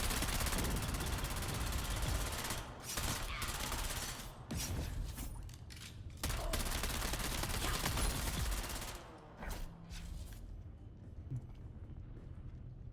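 Dense, rapid gunfire from the video game Lost Harvest comes in long continuous bursts, breaking into shorter volleys and scattered shots toward the end.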